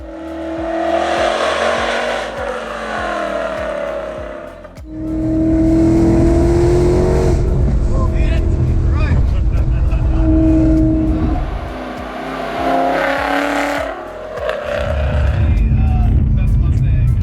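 A 900 rear-wheel-horsepower S550 Ford Mustang drives through a canyon, its loud engine repeatedly revving and accelerating close by, with speech at times and a steady roar between the pulls.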